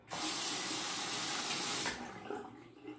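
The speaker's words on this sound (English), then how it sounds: "Now I'll wet the razor." Tap water gushes steadily into a sink to wet a razor during a wet shave. The stream runs loud and close for about two seconds, then turns to softer splashing and dripping.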